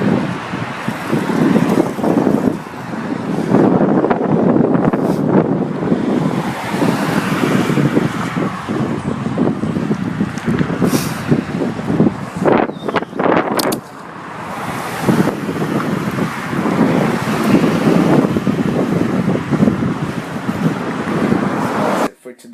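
Strong headwind buffets the microphone in loud, continuous rumbling gusts that roar and dip throughout, with a voice speaking briefly underneath the wind.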